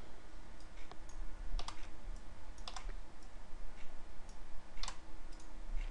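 Typing on a computer keyboard while writing C++ code, a few soft scattered key taps at an uneven pace, faint against steady background noise, with no voices.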